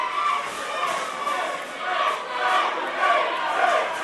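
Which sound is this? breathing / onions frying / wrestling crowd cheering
wrestling crowd cheering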